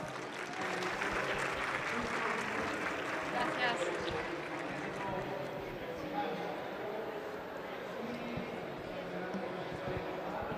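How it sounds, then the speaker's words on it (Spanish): Audience applause welcoming a speaker to the stage at an academic talk on autism, steady broadband clapping from a sizable crowd filling the whole stretch, fairly loud and even throughout. "Un aplauso para darle la bienvenida."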